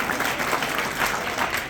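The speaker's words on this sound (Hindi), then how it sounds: "एक बार जोरदार तालियों के साथ भाई नरेंद्र जी गौरा का अभिनंदन" A full crowd of students and staff claps loudly at a school farewell ceremony for transferred teachers, a thick, steady roar of hands with slight surges and no speech.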